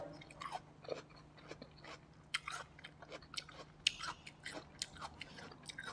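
Crisp bites and chewing of crunchy, sweet snow lotus root, close and quiet, with irregular sharp crunches over several seconds and no talking.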